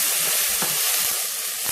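Curry leaves, chopped onion and two green chillies sizzle in oil in a pan, a close, continuous frying hiss with small crackles.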